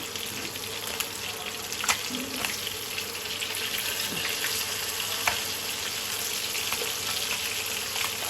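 Fish sizzles steadily in hot oil in a pan, a constant close crackling hiss with occasional small pops and faint clinks.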